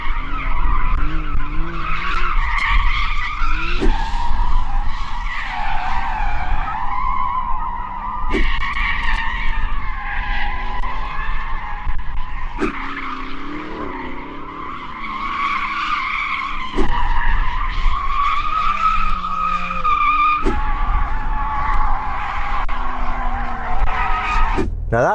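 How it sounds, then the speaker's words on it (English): Several Porsche race cars warming their tyres before a drag race, with long loud tyre squeals and skidding layered over revving engines, repeating in waves throughout. "That's warm the tyres."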